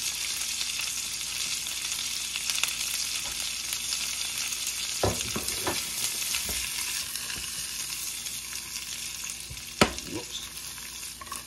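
Fiddlehead ferns sizzle and fry in a small non-stick pan with steady crackling, interrupted by a few sharp clatters of stirring, and a brief spoken exclamation.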